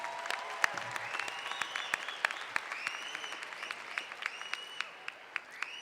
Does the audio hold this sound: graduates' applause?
yes